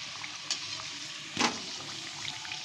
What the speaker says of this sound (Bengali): এপিট ওপিট আমি একটু লাল লাল করে ভেজে নিচ্ছি, তাতে খেতেও ভালো লাগে, দেখতেও ভালো লাগে।